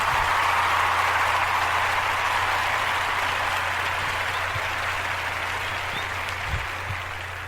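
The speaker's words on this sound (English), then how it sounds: "I'm going to clap for it." A podcast host claps, producing a dense, continuous wash of applause-like noise that fades slightly over several seconds with no speech.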